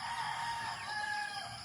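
Harvard and Rhode Island chickens on a farm at feeding time, with a rooster crowing and hens clucking steadily throughout, moderately close and with no talking.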